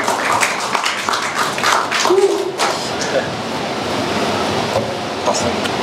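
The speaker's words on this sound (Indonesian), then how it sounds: "Tepuk tangan buat Mas Anton." Audience applause welcomes a guest speaker at a talk event on NFTs and digital art: steady, broad, close clapping that fills the whole stretch without a break.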